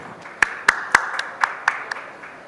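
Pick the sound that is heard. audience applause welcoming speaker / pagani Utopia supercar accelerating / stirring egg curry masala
audience applause welcoming speaker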